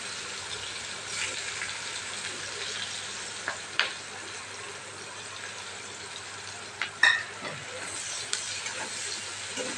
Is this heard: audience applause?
no